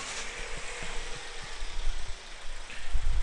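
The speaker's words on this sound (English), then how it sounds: "I'm going to start the engine up" A car engine turns over and settles into a low, steady idle, fairly quiet with a soft rumbling throb throughout.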